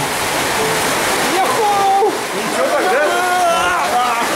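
Loud, steady rushing of a strong mountain river in Spain, a broad continuous roar, with people talking over it.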